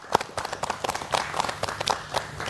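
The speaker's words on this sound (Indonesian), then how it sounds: "Tepuk tangan yang paling heboh, monggo." Studio audience clapping on a regional television talk show about political parties ahead of the 2024 Indonesian election, with scattered, uneven claps of moderate loudness and no voices over them.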